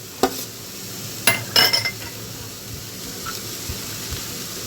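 Chopped carrots, cabbage and capsicum stirred in a pan for vegetable momo filling, with a few quick scraping clatters of the spoon near the start, then a quiet, steady background hiss.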